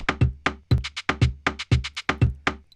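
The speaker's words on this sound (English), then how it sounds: "and then we just put it in the saturation plugin." A rhythmic sample run through a saturation plugin gives a dense, punchy pattern of roughly a dozen loud, evenly spaced hits with thick low end and a bright, gritty top, all alone with no talking.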